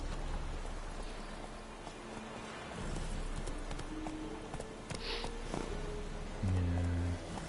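Hoofbeats of Roach, the horse in The Witcher 3, clip-clopping at a steady walk over ground with faint rain around, moderately close, with music and light ambience underneath and no talking.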